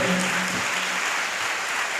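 A church congregation claps hard during a Telugu sermon, producing a steady crowd of many hands at close range. A short low vocal tone rises over the clapping near the start.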